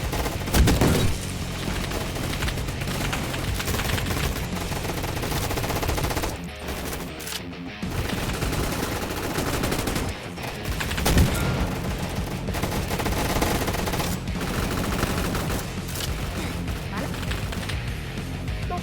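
Gunfire in the Roblox Gun Fight Arena video game, including a twin shotgun, as rapid overlapping shots and bursts that run almost without pause, loud and busy, with brief dips between volleys.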